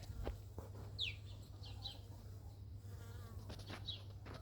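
Bees buzz in a garden, short passes of buzzing close by over a steady low hum, with occasional chicken sounds faint in the background.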